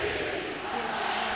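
A stadium crowd roars at the Notre Dame football team's Enter Sandman entrance against Virginia Tech, a dense, steady wall of cheering and shouting at full volume throughout.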